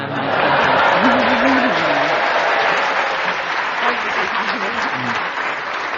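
A studio audience at a radio panel comedy show applauds warmly, a full, sustained burst of clapping with a voice briefly audible near the start.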